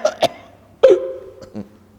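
A voice imitates a poor person's cough, with a few short, sharp coughs and hacks spread over about two seconds, close and fairly loud with no other sound.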